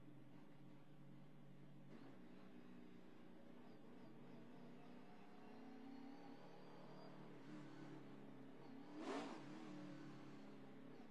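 NASCAR race car engine heard onboard at Bristol, a steady loud drone that swells slightly and peaks briefly near the end, with no talk.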